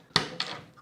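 Two sharp metallic clicks, a quarter second apart, as a newly cut key turns in the lock of a mid-century modern bureau, close and quiet in a still room.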